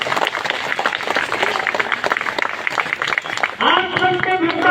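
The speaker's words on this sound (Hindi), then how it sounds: "इनके लिए मैं चाहता हूँ पुनः एक बार जोरदार तालियों से स्वागत करें।" A crowd at an outdoor protest rally in winter claps loudly in a dense burst of applause, which fades as a voice begins over a loudspeaker near the end.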